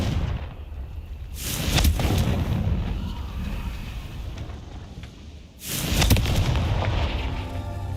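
Fire spell explosions from the Hogwarts Legacy video game, two heavy booming blasts a few seconds apart, each with a loud crackling burst over a rumbling background, no speech.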